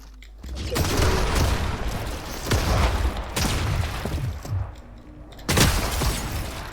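Rapid bursts of gunfire from weapons in a shooter video game's chapter 7, with loud clustered shots and impact cracks in several volleys separated by brief lulls.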